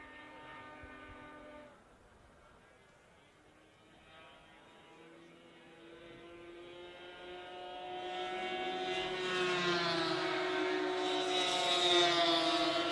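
A 1973 Polaris racing snowmobile flies down the back straightaway of an oval at a power toboggan championship race, its high engine whine rising and growing louder as it approaches, with multiple harmonics climbing in pitch.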